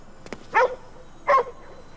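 A Shiba dog in the video game GhostWire: Tokyo gives two short, clear barks about three-quarters of a second apart, close and distinct over a quiet background.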